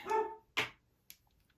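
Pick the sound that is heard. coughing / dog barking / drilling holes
dog barking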